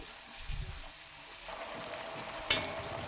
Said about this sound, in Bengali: এই গরম তেলের মধ্যে আমি সরাসরি এখানে রসুন বাটা দিয়ে দিচ্ছি